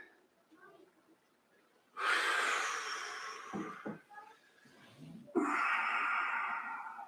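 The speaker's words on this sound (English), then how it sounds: "Let's take a few more breaths here." Slow, deep breaths during a yoga stretch in a live squats-and-twists class, with two long, loud airy exhales that start about two seconds apart, and a short pause between them.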